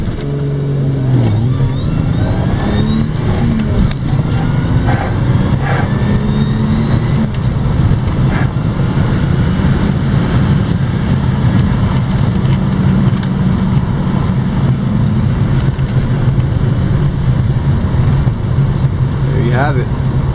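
A BMW E28 with an M20 engine and Motronic 1.3 holds a loud, steady engine roar under launch control, then keeps pulling through flat-foot shifts for about twenty seconds, with a voice talking over it.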